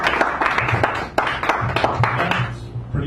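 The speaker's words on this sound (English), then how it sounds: "Give him a round of applause." Audience applause at a poetry open mic in a San Francisco café, a steady wash of clapping hands that carries on for several seconds, with a little background murmur mixed in.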